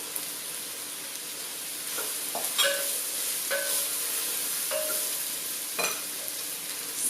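Green onions stirred in a pan while making vegan miso soup, a soft steady sizzle with a few brief scraping stirs of the utensil, quiet and close with no talking.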